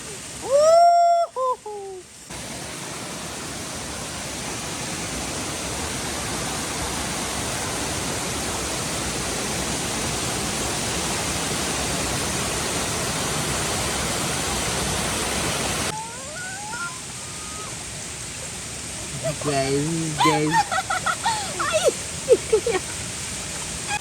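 A waterfall in Malappuram gives off a steady, full rushing roar through most of the stretch. Brief chirping, whistle-like calls sound before and after it.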